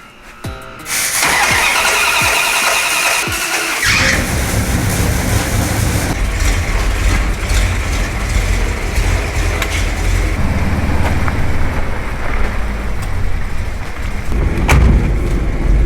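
A Radcharger vehicle's engine cranks briefly, then catches and starts, settling into a loud, steady running roar close by for the rest of the time, with no talk.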